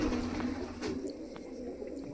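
Pigeons given water by their keeper coo in a soft, low, continuous murmur, moderately close, with faint clicks and no voices.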